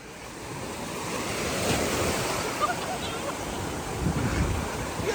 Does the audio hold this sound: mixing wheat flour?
no